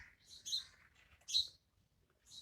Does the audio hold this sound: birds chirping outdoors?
yes